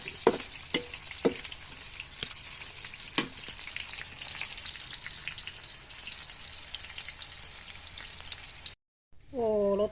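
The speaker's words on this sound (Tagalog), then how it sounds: "basta kay init kayang oil guys, iniglunod mo sa fries kay imang fries, bukon siya guys." French fries deep-fry in hot oil, giving a steady soft sizzle broken by scattered crackles and pops. Near the end a brief silence is followed by a different short sound.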